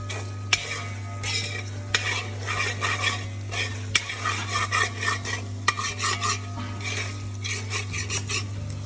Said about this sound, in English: Lovely sounds of the mutton being bhuned now